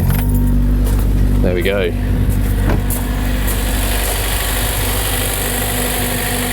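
A Honda Civic Type R with a K20 engine and an idle air assist delete kit cranks with a brief starter whir, catches, and settles into a steady close idle hum with a low rumble, while someone speaks briefly near the start.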